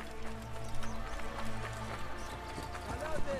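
Horse galloping in Assassin's Creed Origins, with quick, close hoofbeats running through busy game noise while a voice talks over them.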